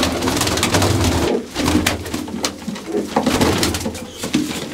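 Pigeons in a loft coo continuously and loudly at close range, several birds overlapping in a dense, throaty murmur with soft rustling, and no talking.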